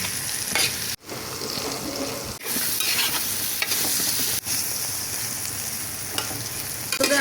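Continuous loud sizzle of eggplant frying in oil in a pan, with brief drops in sound where the pan is moved or stirred.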